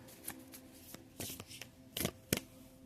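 Quiet riffle of playing cards being shuffled, a series of soft irregular flicks and snaps close by.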